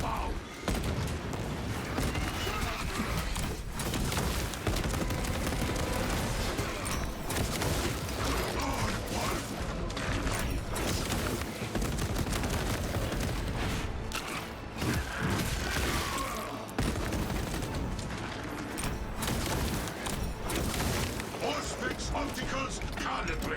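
Frag grenade and gunfire in a Warhammer 40K shooter with a heavy bolt rifle build, heard as dense bursts of shooting, blasts and clanking mechanisms throughout, with a voice talking over the action.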